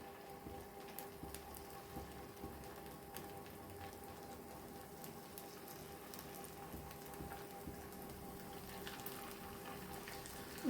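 Batter and oil sizzle steadily in a hot stone kuzhi paniyaram pan, a faint, continuous crackle like light rain, with no talking.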